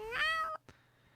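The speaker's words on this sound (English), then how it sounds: "We have a cat in the fishbowl." A single cat meows once, clear and fairly close, with a rising then falling tone that cuts off abruptly, followed by a faint click and near silence.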